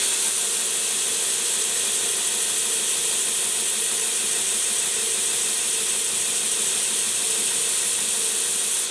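A 3-inch Greenlee slick chisel has its bevel reground while sparks shoot off, making a steady, unbroken abrasive hiss and whir that runs loud and close from start to finish with no talking.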